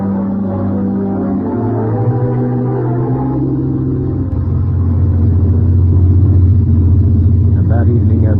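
An old truck drives out onto the open road, its engine rumbling steadily and loud throughout, with a gear change and rising drone near the middle; a voice talks over the engine.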